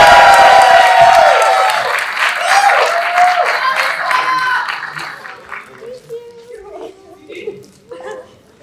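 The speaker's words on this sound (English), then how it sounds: "please give a round of applause for our Jhalak chairs" Audience applause and cheering for the chairs of a student Jhalak show, loud at first and then fading over several seconds as a voice begins talking.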